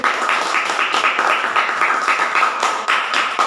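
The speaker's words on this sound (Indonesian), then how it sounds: "Oke, tepuk tangan lagi." Classroom applause after a student group presentation: a room of students clapping together in a quick, even rhythm, close and lively for a few seconds, with no speech over it.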